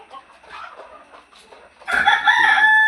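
Chickens at a poultry farm of about two hundred birds, first faint scattered clucks, then a loud close burst of clucking and crowing-like calls in the final second, no talk.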